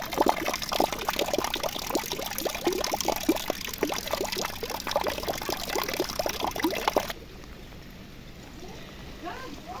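Rainwater pours steadily off a roof in a heavy, bubbling stream, loud and close, then drops abruptly to a softer trickle and patter of rain.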